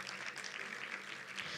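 Steady audience applause at a university anniversary celebration honouring award winners, dense distant clapping that holds evenly throughout at a fairly faint level.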